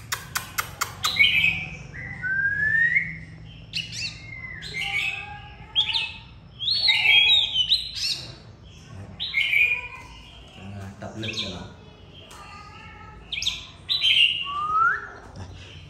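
A caged oriental magpie-robin delivers a varied string of clear whistled phrases and chirps, close and lively, over faint background noise and some indistinct voices.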